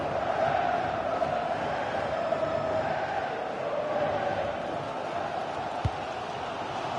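A football stadium crowd roars steadily in a dense, continuous wall of cheering and chanting late in a match, holding a constant loud level throughout, with one brief sharp knock near the end.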